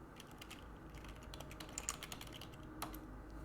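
Fingers type on a computer keyboard during a puzzle game, producing a quick irregular patter of close, faint key clicks with a few harder strokes, without any talk.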